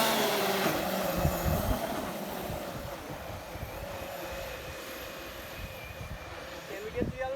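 A Traxxas X-Maxx RC car set up as a hydroplane skimming across water, a steady mid-distance motor whine with a rushing, splashy wash throughout and people talking over it.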